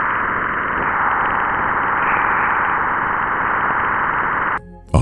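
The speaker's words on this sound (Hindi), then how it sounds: "जुपिटर का साउंड आप सुन सकते हैं।" Jupiter's plasma wave signals recorded by the Juno spacecraft and converted to sound: a dense, steady roaring hiss with a faint wavering tone that cuts off abruptly just before the end.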